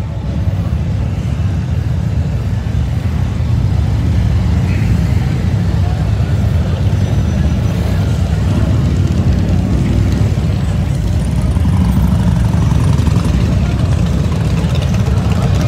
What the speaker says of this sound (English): Bikes down every street.